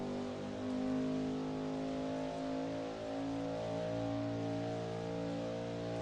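From inside a Ford endurance race car at the Le Mans 6-hour race, a steady muffled engine drone with layered harmonics holds for several seconds, fairly quiet and even, with no voices.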